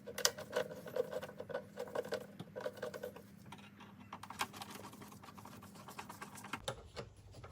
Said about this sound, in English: I need my flathead screwdriver, and let's go ahead and remove this coupler.